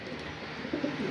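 Pet pigeons softly cooing nearby, a few low throaty coos over a quiet background hum.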